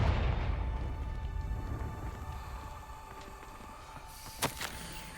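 A Confringo blasting spell goes off in the Hogwarts Legacy video game with a booming burst that fades into a low rumble, followed by near quiet and a short, sharp pop a few seconds later.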